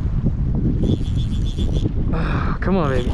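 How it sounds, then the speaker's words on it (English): Strong wind blows at a lake, buffeting the microphone with a constant low roar while someone speaks briefly over it. "Wow, that wind's picking up good"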